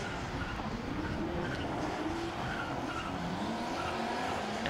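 Supercharged 4.4-litre V8 S13 drift car at a British Drift Championship qualifying session, with a sustained roar of engine and screeching tyres that stays loud and continuous throughout.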